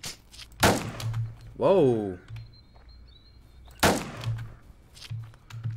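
Gunfire in Roblox Island Royale, with two loud sharp shots or bursts about three seconds apart, close and prominent, and a startled voice exclaiming between them.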